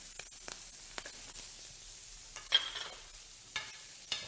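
Garlic and onion sizzle in hot oil for a Spanish fideuá, a quiet, steady fry with scattered crackles and a few louder stirring scrapes.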